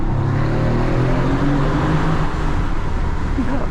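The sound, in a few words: Mercedes-AMG GT engine sound check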